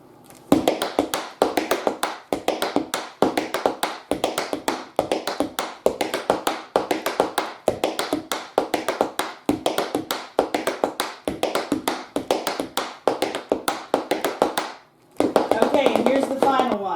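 Tap dancing in tap shoes: rapid, crisp metallic taps and shuffles in a steady driving rhythm close to the microphone, running continuously, with a brief pause and a denser burst of steps near the end.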